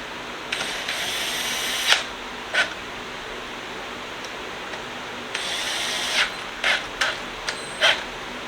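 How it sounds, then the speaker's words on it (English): Screws are driven back into a Craftsman weed eater, giving bursts of ratcheting clicks from a hand tool with short pauses between turns, close and fairly clear against a quiet room. "we're going to get these screws back in here and actually tighten them down"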